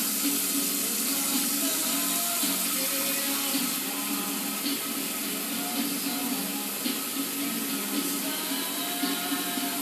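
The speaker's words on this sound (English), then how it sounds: "So now we're going to add some water like this." Water from a tap runs steadily into a big pot being filled for spaghetti, a continuous hissing splash with no pauses and no one talking.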